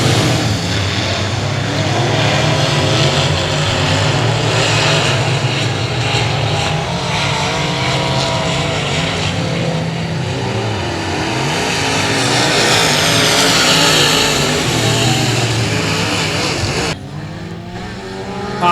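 Race cars roar continuously around a dirt speedway during a heat race, a loud dense engine drone with shifting pitch as cars pass close by, with faint announcer talk underneath.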